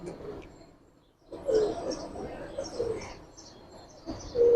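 Giribaz pigeons coo softly in a loft, several low murmuring calls rising and falling at close range, with people talking nearby.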